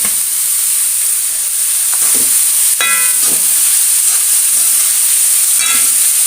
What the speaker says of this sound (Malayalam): ഇനി അതിലേക്ക് ഗ്രേറ്റ് ചെയ്ത് വെച്ച പപ്പായ ഇട്ട് കൊടുക്കുന്നുണ്ട്